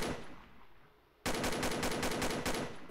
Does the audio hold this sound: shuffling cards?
no